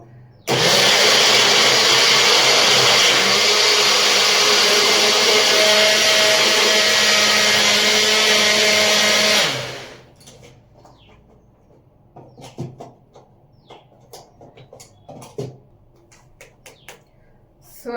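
A mixer grinder grinds a batch with water mixed in, running loud and steady for about nine seconds before cutting off, followed by scattered faint clicks and handling sounds.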